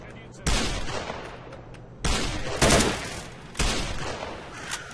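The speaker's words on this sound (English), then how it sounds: "We're back in the middle of a gunfight right now." Bursts of loud gunfire in a gunfight in the video game STALKER Call of Pripyat, three heavy volleys a couple of seconds apart, each trailing off into echo.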